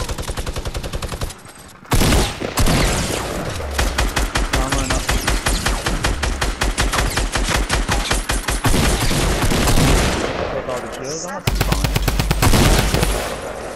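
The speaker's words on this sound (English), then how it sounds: "They were shooting you with an AR with a scope from a distance" Rapid assault rifle fire in a Fortnite squad match, scoped AR shots coming in from a distance, with long dense bursts of cracks nearly filling the stretch and a brief lull near the start.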